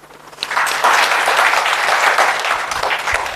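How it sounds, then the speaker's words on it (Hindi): Loud audience applause bursts in after a quiet moment and continues steadily at a life-skills seminar session held in a hostel hall, many hands clapping close by. "सबके लिए तालियां।"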